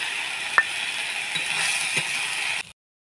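Moringa leaves with potato fry in a pan with a steady hiss and sizzle, with a few light scrapes and clicks of stirring, close by, ending abruptly.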